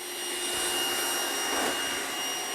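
A Trifo Maxwell robot vacuum cleaner whirs steadily nearby as it climbs over a laptop, a constant airy motor hum with a slight swell midway and no talk.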